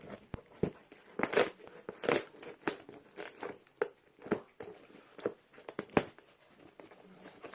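Packing tape is ripped and peeled off the package of a handmade olive wood chessboard from Tunisia in a series of quiet, irregular crinkling tears.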